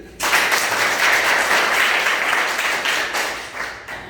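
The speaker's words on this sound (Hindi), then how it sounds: "एक बार अपने ताली बजाइए।" A crowd of schoolchildren clapping at a school gathering: one dense burst of applause that holds for about four seconds and then gradually thins out.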